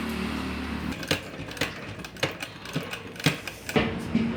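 A sewing machine stitches along the edge of a fabric pocket on baby shorts, giving a string of sharp mechanical clicks and thumps in an uneven rhythm over a low hum, with no voices.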